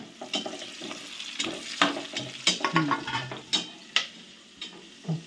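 Green chilies and curry leaves sizzle and crackle in a hot frying pan, with a steady frying hiss broken by sharp pops and the clatter of a spoon stirring against the metal.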